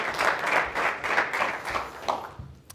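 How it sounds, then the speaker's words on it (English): An audience gives a short round of applause, a few pulsing swells of clapping that taper off within a couple of seconds. "Let's give Julia a big round of applause."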